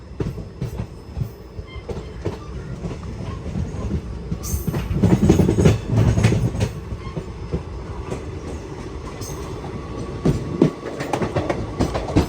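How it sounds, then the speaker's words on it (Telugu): A train sits at the Palakkad Junction platform in Kerala, rumbling and clattering steadily with bursts of wheel and coupling noise and a brief high squeal, heard at moderate distance and continuous throughout. "అటు ప్లాట్ఫామ్లో ఏదో ట్రైన్ అయితే ఉంది, ఒక ట్రైన్"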